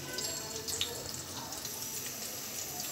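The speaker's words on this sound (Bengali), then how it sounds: "তো আমি এভাবে যে কটা দেওয়া প্রয়োজন ঠিক সে কটাই তেলের মধ্যে দিয়ে নিছি" Cauliflower florets frying in hot oil, a steady close hiss with faint crackle running evenly throughout, no talking.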